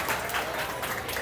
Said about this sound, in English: Now give him a round of applause